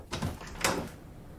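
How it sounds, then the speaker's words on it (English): A front door is opened for birthday guests, with two brief knocking or latch clicks followed by a short creak and rattle, fairly quiet and nearby. "Okay, I'll get the door."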